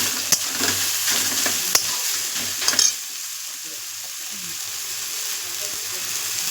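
Taro pieces sizzle loudly in a hot pan with black cumin, a constant frying hiss with a few sharp clinks of stirring early on before the sizzle settles into a steady wash.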